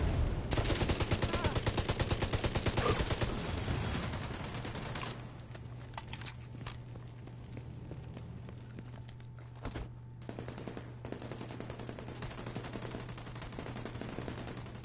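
Rapid bursts of gunfire from The Division 2, with a dense volley of automatic fire at the start, then a steady hum and scattered, fainter shots and impacts.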